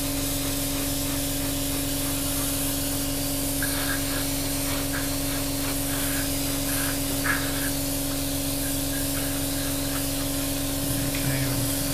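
An airbrush spraying a coat of paint onto a 1/32 Hasegawa P-40 model at high air pressure, a steady, loud broadband hiss running throughout over a constant compressor hum, with faint clicks of handling.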